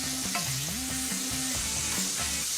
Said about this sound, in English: Get that bacon really nice and crispy. Fry off the chilli and the garlic.